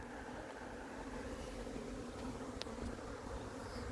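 A swarm of honeybees flying in the open air, a continuous faint buzzing drone with a low background rumble, no voices.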